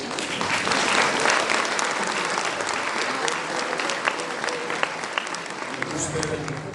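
An audience applauds at an annual folk dance concert of a cultural society, sustained dense clapping filling the hall while an announcer speaks over it.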